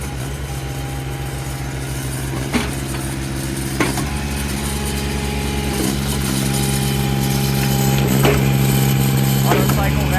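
A diesel-powered Eastonmade 37D wood splitter runs steadily outdoors, its engine droning under a busy crowd while a few sharp cracks and creaks mark hard maple rounds splitting; people talk nearby throughout.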